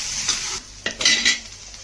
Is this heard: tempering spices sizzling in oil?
yes